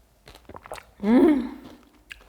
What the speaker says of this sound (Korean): 여러분 토핑 씹는 소리 들리세요?